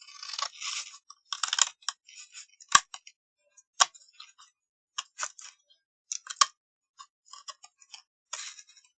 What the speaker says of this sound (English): so this scissors isn't that good